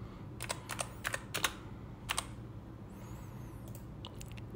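Someone types code on a computer keyboard, producing quick bursts of crisp, close key clicks separated by short pauses, with no voice over them.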